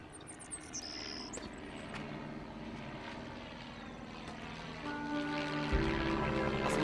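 Propeller airplane flying overhead and performing loops, a droning engine hum that builds and grows louder toward the end, with faint birdsong early on.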